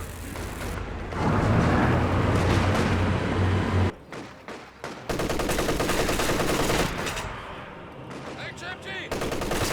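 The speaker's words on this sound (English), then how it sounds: "All these machine guns" Machine gun fire rattles through a video game battle in long, loud bursts, with a short lull midway before dense automatic firing resumes.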